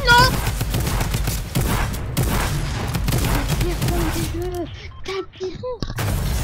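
Rapid gunfire in the video game Fortnite during a desert zone wars match, dense bursts of shots filling the first half, then sparser pops, with players talking over it throughout.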